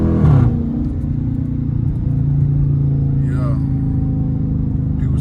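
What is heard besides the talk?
Dodge Charger RT engine revving during rev-matched downshift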